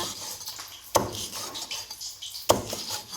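Two sharp, heavy chops through crispy pork on a cutting board, spaced well apart, with faint scraping and clinking of utensils in between.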